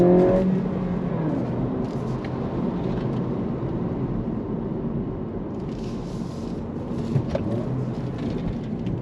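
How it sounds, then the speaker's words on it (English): Engine of a 2025 Acura Integra A-Spec heard from inside the cabin, a steady rumbling drone with slight rises in revs during automatic rev-matched downshifts, continuous throughout. "the way that it does the automatic rev match downshifts, it's very smooth"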